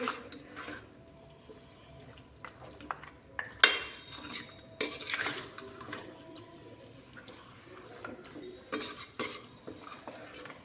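A utensil stirs mutton masala frying in oil in a pan, giving close clinks and scrapes against the metal over a faint sizzle, with irregular louder knocks.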